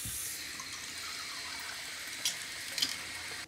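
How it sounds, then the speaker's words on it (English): A cup of water poured into a sourdough mix for a single round loaf, a soft, faint trickle of liquid running steadily, quiet and close, with no talking. "And then we mix in a cup of water."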